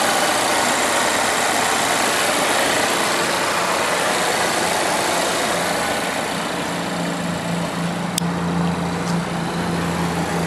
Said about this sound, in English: Volvo's 2-liter turbo and supercharged 4-cylinder, or the twin-charged engine